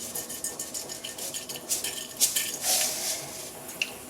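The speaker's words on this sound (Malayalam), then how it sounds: "അതിലോട്ട് നമുക്ക് 1 ടീസ്പൂൺ കടുക് ഇട്ട് കൊടുക്കാം." A teaspoon of mustard seeds splutters and pops in hot coconut oil in a pan. The crackling is bright and irregular, with scattered sharp pops over a steady hiss, and no one speaks.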